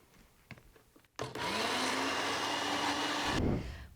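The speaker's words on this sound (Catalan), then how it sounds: "Ja estarem llestos per batre" A kitchen blender whirs loudly and steadily for about two seconds as it purées hummus ingredients with tajín and salt, then cuts off abruptly, preceded by a few light taps.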